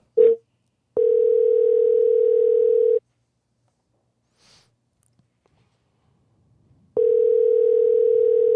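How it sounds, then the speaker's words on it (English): A steady ringback tone sounds twice, a long two-second buzz, then silence, then the tone starts again, with a brief beep at the very start. "Tell him to answer the phone."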